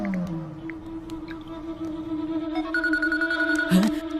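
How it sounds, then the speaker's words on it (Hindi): A phone rings with a sustained electronic tone that shifts to a higher pitch near the end, loud and close, with no one speaking. "अरे डॉन मंगल सिंह का फोन आ रहा है, काट दूं क्या?"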